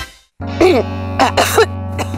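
Coughing in a television advertisement for Tolak Angin cough medicine, several harsh, close, loud coughs in quick bursts over a steady tonal music bed.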